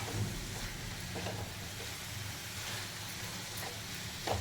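Grated radish and chopped radish leaves cook in a pan, a steady low sizzle with faint soft crackles running throughout, close and even, with no talking.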